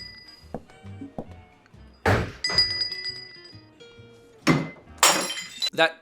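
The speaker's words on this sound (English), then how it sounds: "That glass wasn't supposed to break." A drinking glass breaks on a small film set, with a sharp shatter around the middle and another bright crash near the end, amid scattered thunks, clinks and handling knocks in a quiet room.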